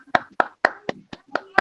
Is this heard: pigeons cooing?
no